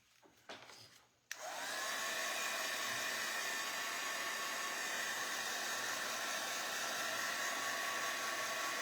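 A hair dryer starts with a click and runs steadily and loudly, blowing on painted wood craft pieces to dry the paint, a constant close whooshing hum.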